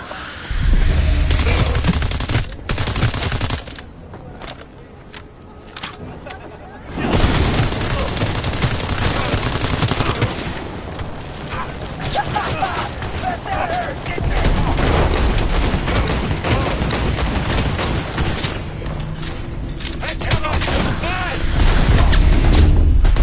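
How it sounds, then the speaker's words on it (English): Sustained heavy gunfire in the video game Cyberpunk: dense automatic bursts and booming shots, loud and close, with a brief lull before the firing resumes and a voice calling out over it. "Under heavy fire!"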